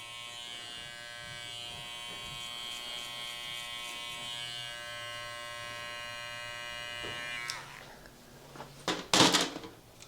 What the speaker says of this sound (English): I'm just going to shave all that off.